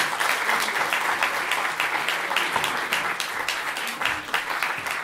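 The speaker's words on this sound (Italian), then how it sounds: "Ancora un applauso." Steady audience applause at a poetry-and-song event, dense and continuous with many hands clapping at once, filling the whole stretch without a break and at even loudness.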